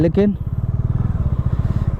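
A motorcycle ridden on a mountain road between Kedarnath and Tungnath, its engine throbbing in a steady, close, loud rhythm throughout, with a voice speaking briefly at the start.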